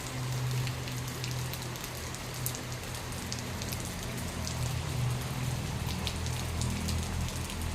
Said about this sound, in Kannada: ನೋಡಿ ಈ ವರ್ಷದ ಎರಡನೇ ಮಳೆ